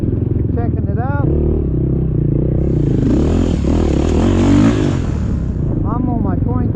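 A 2020 Beta 430RR dirt bike engine revs up and down at an MX ride park in West Virginia, loud and close, with a rising surge in the middle and wind noise throughout.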